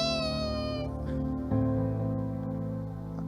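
A cat meows in drawn-out, wavering cries over a steady droning musical background, fairly loud and without talk.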